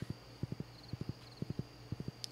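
A black horse trotting in the Stardew Valley video game, steady paired clip-clop hoof beats in an even repeating rhythm, fairly faint over a soft electronic hum, with no talking.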